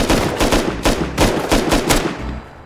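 Gunfire in the video game Rust: a rapid string of about eight loud, close shots in an even automatic rhythm, ringing out afterward.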